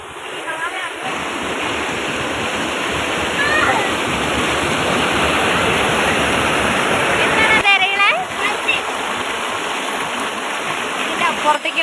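A village stream and waterfall roar steadily and loudly, a dense continuous rush of falling water close by, while voices speak briefly over it a few times.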